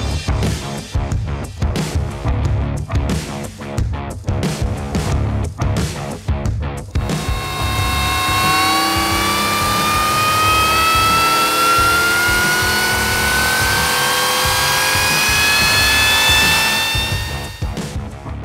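A Ford 7.3-litre Godzilla V8 fitted with a Harrop supercharger runs loud and close, rough pulsing idle blips giving way to a sustained rising rev with a climbing supercharger whine.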